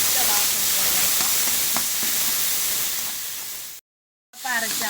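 Ground onion paste with curry leaves sautés in a pan for chilli chicken gravy, giving a loud, steady sizzling hiss close by that drops out briefly near the end before resuming.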